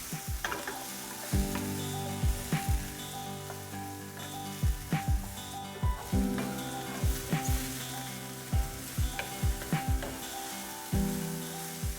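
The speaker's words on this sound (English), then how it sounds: "3 tablespoons avocado oil. Garlic, ginger, and green onions. Saute for 2 to 3 minutes." Garlic, ginger and green onions sauté over medium heat in avocado oil, giving a steady bright sizzle with a regular rhythm of spatula scrapes and taps close by, with no voices.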